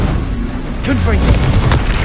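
A Confringo blasting spell going off in Hogwarts Legacy, a loud booming explosion with a deep rumble and crackling burst, close and powerful, amid spell-casting game effects and a spoken voice.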